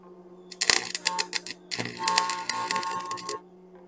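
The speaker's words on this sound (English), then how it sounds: "I'm using the hammer to kind of peen this over is to expand the weld joint a little bit" A hammer strikes a cast iron weld repeatedly to peen it, sharp metallic taps in quick uneven bursts with brief pauses between, close and fairly loud.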